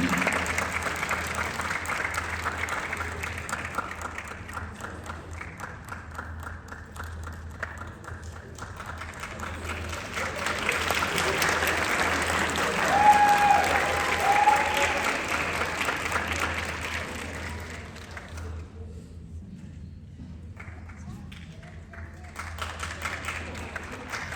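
Audience applause during a special award presentation at a band awards ceremony, sustained clapping from a crowd that swells in the middle and then fades, with a brief return near the end.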